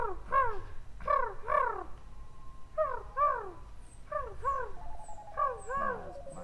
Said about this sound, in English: Hey, Sean, I think you have pigeons in your car.